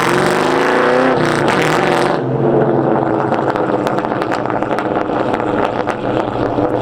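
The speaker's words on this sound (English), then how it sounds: "Them SLPs sound really good." Ford Mustang GT with an SLP exhaust and H-pipe accelerating hard, a loud rising engine roar that shifts after a couple of seconds into a throbbing lower exhaust note with crackles, close by and without talk.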